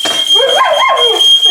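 A dog whines and yips in rising and falling howls, close and loud, over a steady high-pitched electronic alarm tone in a kitchen where steak is baking in the oven.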